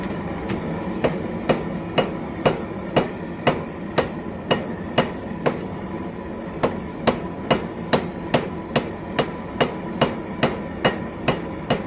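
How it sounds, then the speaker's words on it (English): A ball peen hammer strikes the rivet of blacksmith tongs in steady, evenly spaced blows, about two a second, each a sharp ringing metallic clang, close and loud with no talk. "So I'm using the ball peen part, and that's to round out the outside."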